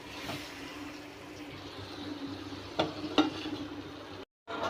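Eggs frying with green chillies in a pan, a steady close sizzle with two short scraping stir sounds, then a brief cut to silence near the end.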